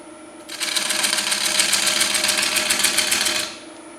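A gouge bites into a large wooden bowl spinning on a Stratos XL wood lathe, making a loud, rapid rhythmic chattering rasp that starts abruptly, holds steady for about three seconds, then stops over the faint hum of the machine.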